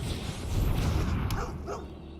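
A dog card played in the digital card game MTG Arena, Kaldheim set, gives a short burst of cartoonish barking and yipping over a steady game backdrop, fairly loud and close, with no talk.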